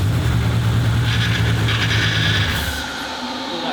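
A modified Ford XR6 ute engine fires up for its first start, giving a loud, steady low rumble that idles evenly before dropping in intensity toward the end.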